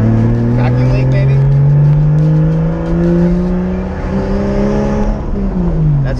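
A loud turbocharged Toyota Supra engine holds high revs with a steady droning whine, the pitch wavering and dipping slightly as the sticking throttle stays open.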